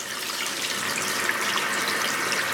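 Water from a tap pours steadily over hair as a perm is rinsed out, a close, continuous splashing hiss with no voices.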